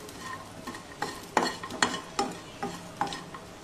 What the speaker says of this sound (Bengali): বড়িগুলো ভেজে নিচ্ছি। আমি এখানে মুসুর ডালের বড়ি ব্যবহার করেছি।